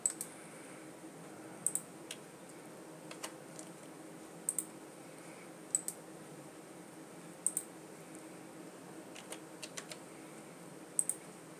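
Sparse typing on a computer keyboard, with quiet isolated key clicks and short bursts spread unevenly over a faint steady room hiss.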